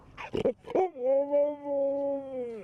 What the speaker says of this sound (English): Dogs aren't allowed inside the shelter, so they're staging out here in the parking lot till it's safe to go home.